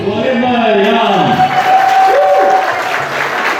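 An audience at a school night event bursts into applause, a dense burst of clapping that swells and carries on for a few seconds after a brief vocal tone at the start.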